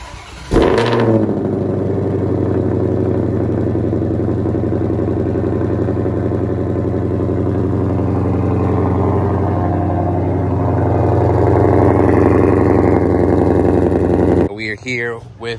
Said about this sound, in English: let's get a cold start